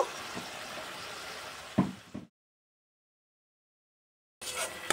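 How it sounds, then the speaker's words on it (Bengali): Spiced egg curry masala frying in a pan, a soft sizzle with a few stirring scrapes that stops abruptly, followed by silence and then the frying noise returning. "এবার সব কিছু সুন্দর করে একসঙ্গে কষিয়ে নেব।"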